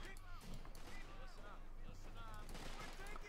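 Battlefield gunfire in the strategy video game Company of Heroes 2, a dense crackle of rifle volleys and rumbling explosions with a continuous din of combat.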